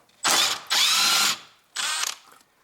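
A wrench loosening a 10 mm bolt near the front ABS speed sensor of a Toyota Prius gives three loud, close ratcheting bursts, two long and one shorter, separated by brief pauses.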